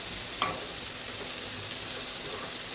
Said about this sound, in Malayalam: ഇതിലേക്ക് മുട്ട ഒഴിച്ചു കൊടുക്കാം.